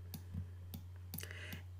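Several soft, separate computer keyboard key presses click quietly in a near-silent room, spaced irregularly, with a faint steady hum beneath.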